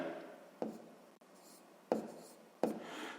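A pen scratches on paper while writing out a math fraction, with soft continuous scribbling broken by three sharp taps as strokes begin, close and quiet with no talking.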